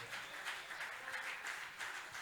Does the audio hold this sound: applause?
yes